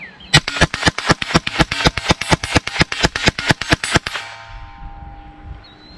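A Bear Creek Arsenal .22LR upper fires CCI Stinger rounds in a rapid string of about eighteen sharp, loud cracks at a steady rhythm, then the shooting stops and faint ambient noise remains.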